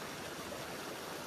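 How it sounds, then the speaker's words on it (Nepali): A mountain river in Sikkim rushes in a steady, dense wash of flowing water, close and continuous with no voices. "हामी फाइनली खोला आइपुगिसक्यो होइन।"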